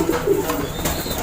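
A racing pigeon that has just finished moulting gives a brief, low, close coo against light background noise.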